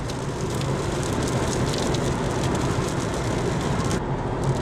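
Steady rain during a train ride, a dense, even hiss of drops filling the whole clip at close range with no voices, the texture holding constant throughout.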